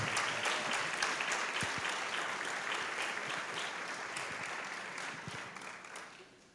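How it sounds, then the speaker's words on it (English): An audience at a public school board meeting applauds student ambassadors standing to be recognized, a full, even wash of clapping that gradually thins and fades toward the end. "Let's give them a round of applause."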